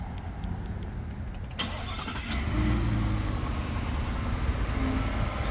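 A 2024 Ford F-150 XLT pickup starts up via remote start, a brief cranking burst followed by the engine settling into a steady, moderately close idle rumble.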